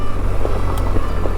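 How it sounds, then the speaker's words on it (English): A motorcycle rides along dirt back roads, its engine droning steadily with a low, continuous rumble and wind rush, loud and close throughout with no talk. "I get to ride a motorcycle, which is what it's all about"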